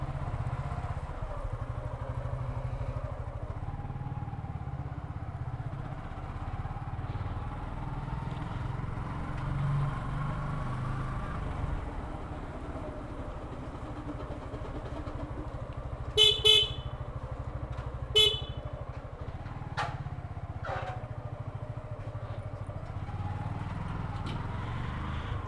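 A motorcycle rides through narrow, congested city lanes, its engine droning steadily while nearby car and bike horns blare in short bursts, including a cluster of sharp honks midway.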